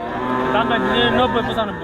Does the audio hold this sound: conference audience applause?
no